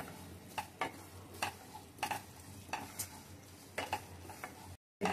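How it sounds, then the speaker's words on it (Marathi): Semolina roasts in a pan with dry fruits, stirred with a spoon that scrapes and taps at a regular rhythm over a faint background sizzle. The sound is quiet and close. "रव्याबरोबर ते पण सुद्धा तळून निघतात"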